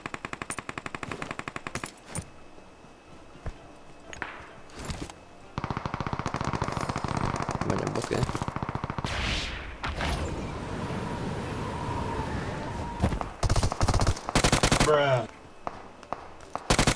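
Rapid automatic DP gunfire in the PUBG Mobile video game, long sustained bursts of fast rattling shots, loud and close, broken by short pauses, with a player talking over parts of it.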